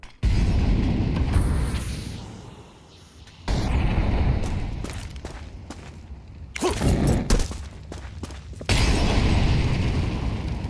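Grenade explosions in a Counter-Strike match at a big esports event, loud booming blasts and bursts repeating through the stretch with brief quiet dropouts, dense and close, no speech over them.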